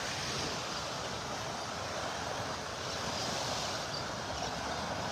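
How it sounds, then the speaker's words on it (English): Small ocean waves wash onto a morning beach in North Naples, Florida, a steady close hiss of surf mixed with wind buffeting the microphone, with no voices. "Got a few little waves here this morning."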